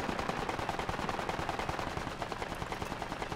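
Sustained rapid machine gun fire in the military shooter game Project Reality, a dense steady stream of bursts heard at moderate distance with no speech.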